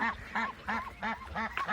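Female ducklings quack repeatedly in a quick, regular series of short nasal calls, close by and fairly soft.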